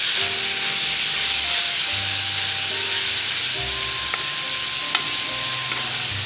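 Chopped green beans fry in hot oil in a pan, a steady close sizzle and hiss with a few faint tings of a utensil touching the pan.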